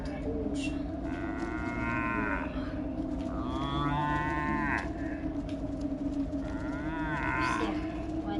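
Several cows in the video game Destroy All Humans! moo in drawn-out, wavering calls, repeating every couple of seconds over a steady low game drone, with no talk on top.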